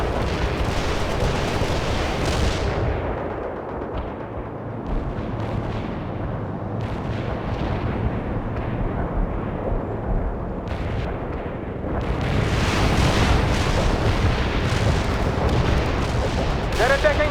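Artillery shells firing in World in Conflict, a continuous roaring barrage of booms and blasts, loud and dense throughout, with radio voices speaking over the din.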